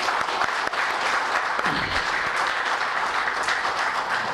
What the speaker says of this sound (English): all of the people who organized this event also should be given a big round of applause